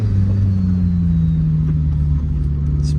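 A car on a gentle test drive, engine humming steadily at moderate revs with a low road rumble throughout, close and continuous, no talking.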